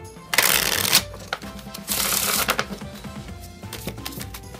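Deck of playing cards being shuffled, two quick riffling bursts close up followed by lighter tapping and squaring of the cards, no talk.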